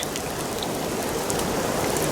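Heavy rain with large drops falls steadily and densely at an overflowing weir in Thailand during lift-net fishing, a continuous close wash of noise with no talking.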